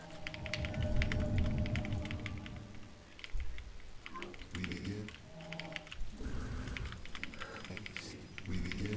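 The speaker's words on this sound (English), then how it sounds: "Do you hear my keyboard all the time?" Rapid clicking of a computer keyboard during a gaming session, steady and close, with soft keystrokes running throughout and faint voices now and then underneath.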